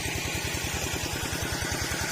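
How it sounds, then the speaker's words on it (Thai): Walking tractor engine runs steadily at a shrimp pond, its fast, even chugging putter loud and close throughout with no talk. "รถไถเดินตาม"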